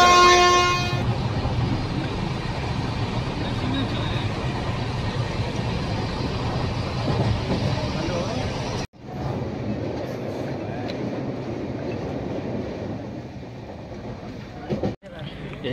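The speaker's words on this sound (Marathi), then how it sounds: "ट्रेन धावले" A train horn blares briefly at the start on an Indian rail line near Nagothane station, followed by the loud, steady rumble of the train running past, which cuts out abruptly partway through.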